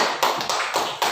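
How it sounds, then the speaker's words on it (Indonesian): Children in a classroom clap their hands: four crisp, evenly spaced claps in quick succession, close and fairly loud with no talking. "Ya, tepuk tangan."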